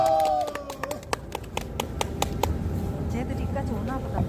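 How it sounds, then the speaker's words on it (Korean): An audience claps with crisp, scattered handclaps that thin out after a couple of seconds, while a voice talks over the start and crowd murmur continues underneath. "다시 한번 큰 박수 부탁드립니다."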